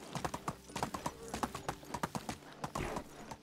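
A horse-drawn cart in the game Medieval Dynasty rolls along, hooves clip-clopping in a steady close rhythm of sharp knocks, fairly quiet and alone.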